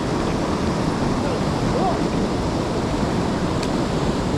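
Steady, broadband roar of whitewater rapids on the Lower Yough river, continuous and loud with wind rushing across the microphone.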